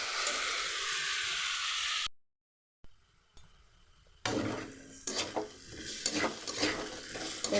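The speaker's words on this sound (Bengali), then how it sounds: "আলুটাকেও ভালো করে গাজর আর বিনসের মতো করেই কিন্তু বরবটির মতো করে ভেজে নেবো" Potato pieces frying and being stirred in a pan while making Chinese-style masala pasta at home, giving a steady sizzle with scraping stirs, briefly cut off by a silent gap before the frying resumes.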